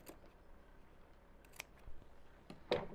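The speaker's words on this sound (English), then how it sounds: "I'm going to stop a short way away and snip up to that stitch line" Scissors snipping into fabric toward a piping stitch line while sewing a boxed cushion cover, heard as a few faint, brief close-up cuts, the clearest one landing near the end, with quiet room noise between them.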